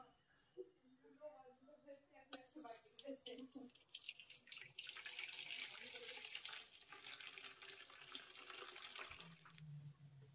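Thin water is poured off settled raw potato paste when making homemade cornflour, a steady trickling splash building in the middle of the clip while someone talks over it.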